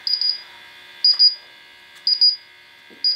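Shrill electronic beeping from a gas detector in alarm on a BTS101 bump test station, sounding in repeated bursts of three quick high beeps about once per second, close and clear.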